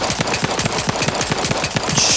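Rapid automatic gunfire from a weapon in the video game Outer Worlds 2, a steady loud burst of evenly spaced shots repeating about eight times a second with no talking.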